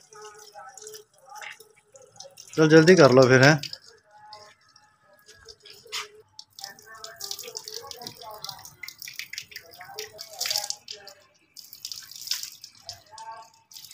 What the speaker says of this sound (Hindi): मुंह धो रही है ठंडे पानी से।